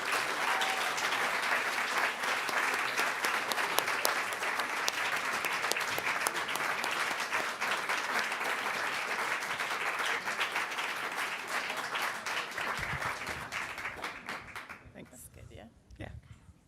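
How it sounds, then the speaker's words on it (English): Sustained, dense applause fills a Boston storytelling slam venue as an audience welcomes the final storyteller, holding steady and loud before fading away near the end. "Let's give thunderous applause and welcome our final storyteller"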